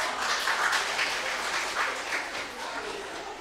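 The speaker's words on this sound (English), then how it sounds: "So a very big round of applause for the audience." A school assembly audience applauds steadily in a hall, a dense wash of hand claps at moderate volume, fading slightly toward the end.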